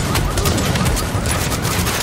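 Sustained rapid gunfire from a firefight in the video game The Division, a dense, loud, continuous barrage with no pauses throughout.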